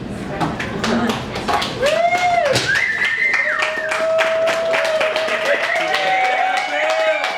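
An audience at a comedy club in Boulder, Colorado claps throughout, with loud voices and whoops riding over the clapping.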